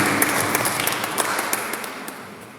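Applause from a congregation at a Wednesday Christian community prayer gathering, a steady, loud crowd clapping that slowly fades.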